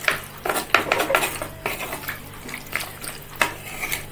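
A spoon stirs country chicken fry in a metal pan, giving a quick series of clinks and scrapes in uneven bursts, close and moderately loud, with no talking.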